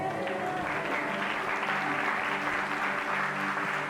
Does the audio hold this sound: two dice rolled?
no